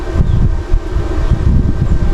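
Steady low breeze rumbling against the microphone, a continuous windy whoosh with no voices.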